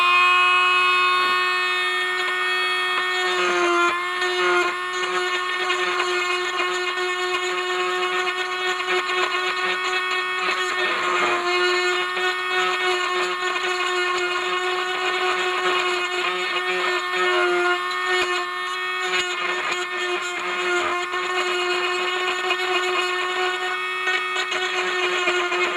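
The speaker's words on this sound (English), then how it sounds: "I have to grind this piece here away as well, because that's in the way." A power tool grinding away plastic on a part of a Decca RG-150 radiogram under restoration, a steady loud high-pitched whine with a rough grinding edge that holds for the whole stretch, rising and dipping slightly in pitch as the load changes.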